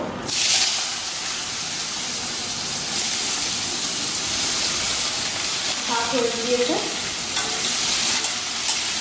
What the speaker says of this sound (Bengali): আর এখানে আলু ভাজা করবো